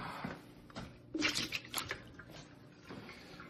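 Water poured out of a ZeroWater 1.7 L filter pitcher, a soft splashing and sloshing pour up close that swells briefly, then trails off into light dribbles.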